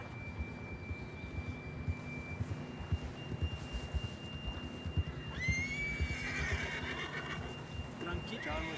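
A horse whinnies with a rising, shrill call over a steady low rumble and scattered background noise, with a faint tone lingering throughout, in the video game Red Dead Redemption 2.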